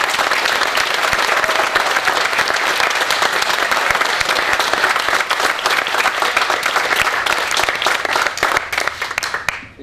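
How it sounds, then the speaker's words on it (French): A crowd at a chamber of commerce cocktail event gives the outgoing president loud, sustained applause, a dense wall of clapping that holds throughout and tapers only at the very end. "S'il vous plaît, une bonne main d'applaudissement pour Louis-Simon."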